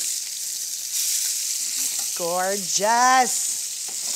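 Lamb chops searing in a hot pan give a steady, bright sizzle throughout, while a voice speaks briefly over it with a rising, sung-out tone.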